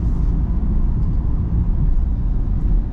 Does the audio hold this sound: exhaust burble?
yes